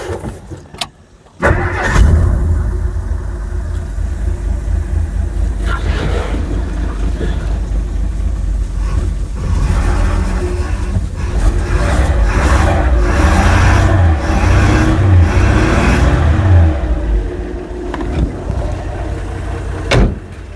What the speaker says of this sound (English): Let's give her a crank or two and see if it leaks.